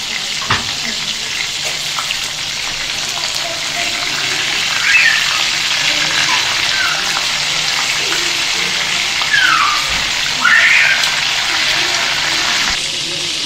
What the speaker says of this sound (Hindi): ये कबाब मेरे फ्राई हो गए हैं